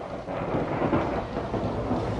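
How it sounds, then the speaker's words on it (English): Thunder in a stage play: a continuous broad rumble with a rain-like hiss, steady and loud across the whole stretch, with no voices. "Thunder."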